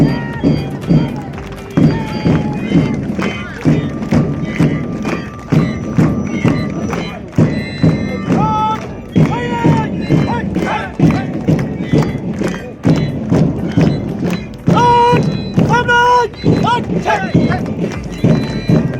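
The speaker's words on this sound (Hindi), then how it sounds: "कदम ताल करते हुए आगे बढ़ रहे हैं।" Marching contingent at an Independence Day parade, feet striking in step as a rhythmic clopping pulse, with a steady band or song running underneath and crowd noise; an announcer talks over it.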